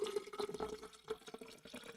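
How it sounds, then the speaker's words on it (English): Water is poured into a glass, giving a faint, close, bubbling trickle with small gurgles and drips that rise and fall unevenly for a couple of seconds. "I feel like people can hear me pouring this water."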